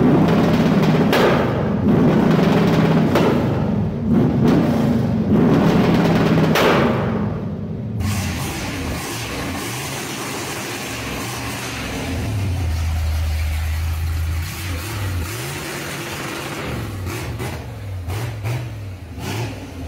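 A carbureted V8 engine revving hard and bouncing off its rev limiter with a choppy, stuttering chatter, then dropping to a rough, lumpy idle with occasional blips, loud and close without talk.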